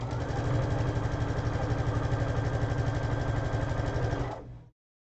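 A sewing machine chain sewing quilt blocks runs in one steady, rapid rhythmic hum of stitching, close and fairly loud, then stops abruptly near the end.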